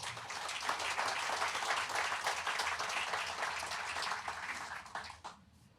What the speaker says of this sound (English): I want to give all 3 of them a round of applause